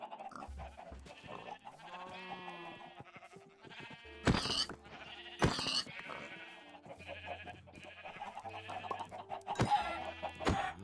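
Sheep bleat and chickens cluck in Minecraft, a stream of wavering blocky bleats mixed with short clucks and a few sharp clicks and hits, no talking.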